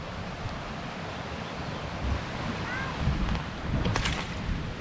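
Mountain river swollen with ice melt, rushing steadily as a broad, continuous roar of water with wind buffeting the microphone, loud and close throughout.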